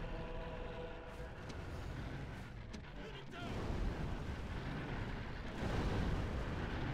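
Artillery fire from a siege battle in the video game Rome Total War rumbles as dense, continuous booming and crackling explosions, with the low roar swelling louder partway through and a voice faintly audible underneath.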